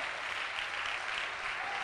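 Steady, dense applause from a church congregation during a Spanish-language worship service, sustained and even throughout with no pauses or voices.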